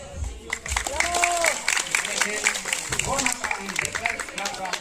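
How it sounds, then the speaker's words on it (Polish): Applause from a crowd at an outdoor firefighters' festival, heard under loud continuous talk and background music, with the clapping never clearly standing apart from the voices. "No a teraz uwaga, brawa."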